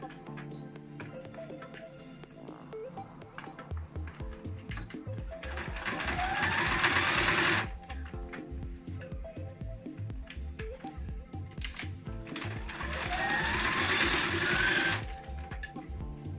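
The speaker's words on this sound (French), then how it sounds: "je vais le coudre là au bord de la finition" A sewing machine stitching the edge of a beret, with two bursts of rapid mechanical whirring and clatter, each a few seconds long, over quieter handling noises and music.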